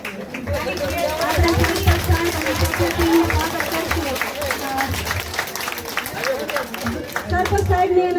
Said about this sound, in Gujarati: તાળીનો ગડગડાટ જોરથી આવવો જોઈએ